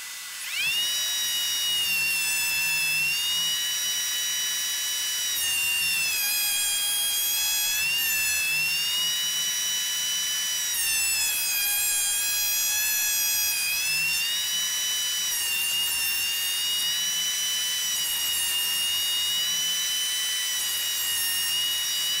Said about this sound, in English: I'm going to go through my thickness planer now.